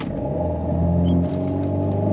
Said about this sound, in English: that was a launch control on wet surface, and there was no wheel spin